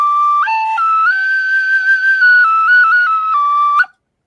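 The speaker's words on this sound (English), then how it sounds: "Just playing the tin whistle." A tin whistle plays a bright, clear melody alone, holding notes and stepping between them, then breaks off abruptly at the end.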